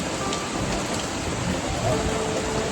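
Heavy torrential monsoon rain pours steadily near Rishikesh, a dense continuous hiss of water drumming on surfaces without letup.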